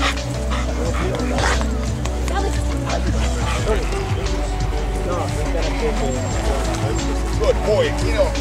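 At an outdoor Rottweiler show, a dog barks and yips repeatedly close by, with whimpers in between, while people talk over it and a car passes in the background.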